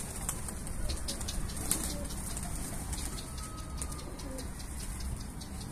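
Pigeons in Turkey cooing: soft, low, repeated coos over a steady outdoor noise bed, fairly distant, with a faint murmur of voices.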